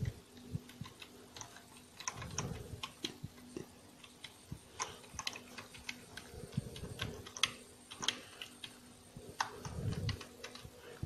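Typing on a computer keyboard during an introductory programming lesson: steady quiet clicks and clacks of keystrokes, close and fairly soft, with occasional thumps and no talking.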